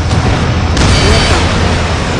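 A missile detonates in the Ace Combat Assault Horizon air-combat game, flown in a Eurofighter Typhoon over a city: a loud, dense broadband boom that surges sharply partway through and rolls on as a sustained roar with low rumble.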